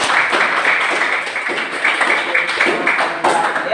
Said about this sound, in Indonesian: berikan dulu aplaus buat teman-teman